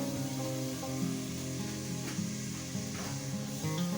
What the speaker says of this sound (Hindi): अब इसको फ्राई करेंगे अच्छी तरह।